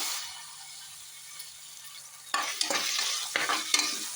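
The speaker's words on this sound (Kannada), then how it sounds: "ಚೆನ್ನಾಗಿ ಫ್ರೈ ಮಾಡ್ಕೊಬೇಕು ಸ್ವಲ್ಪ" Hot oil sizzles steadily with onion, garlic and tomato frying, then a spatula stirs and scrapes through the food in quick bursts, close by and with no talking.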